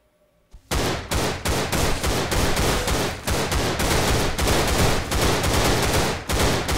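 An AK rifle fires in the video game Line of Sight. After a brief quiet start, loud, close bursts of automatic gunfire hammer out in rapid, almost continuous volleys, with only tiny gaps between the shots.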